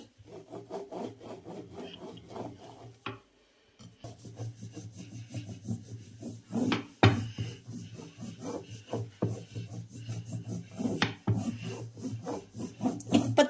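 A rolling pin works thin dough for papdi on a board. It makes repeated soft rubbing, scraping strokes in an irregular rhythm, close and fairly quiet, with a brief pause, and no one speaks.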